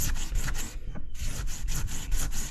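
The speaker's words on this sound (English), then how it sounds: "you can just give it a really good rub, and the glue itself will actually just rub off" Cloth scrubbed hard back and forth over an acetone-soaked windsurf boom to lift off old glue, a steady run of close, rasping rub strokes with a short pause in the middle and no talk.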